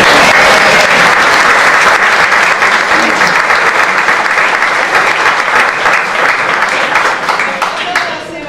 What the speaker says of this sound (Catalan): Francesc, avui l'aplaudiment és doble, triple